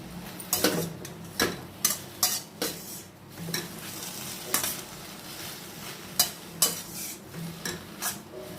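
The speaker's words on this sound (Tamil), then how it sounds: "நல்லா சுருள அதை வதக்கணும்." Chicken being sautéed in a pan. A spoon scrapes and stirs in irregular strokes over a soft, constant sizzle, with occasional clinks against the pan.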